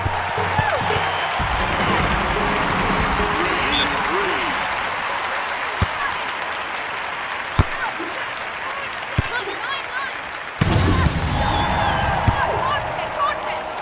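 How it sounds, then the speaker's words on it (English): Steady applause from a large video game crowd at beach volleyball fills the clip, a dense continuous wash of clapping with occasional sharper knocks and a surge near the end. "Just listen to the crowd appreciating that dig."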